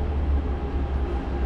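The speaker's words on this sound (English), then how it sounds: "And here is the train." A heavy Hong Kong Airport Express train arriving at a station rumbles loudly and steadily close by, a deep continuous roar of wheels and carriages.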